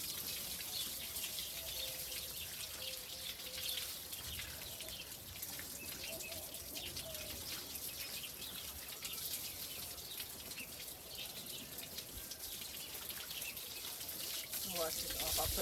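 Tap water runs steadily over freshly harvested backyard turnips as the dirt is rinsed off, a continuous splashing wash with faint birdsong behind it and a few louder splashes near the end.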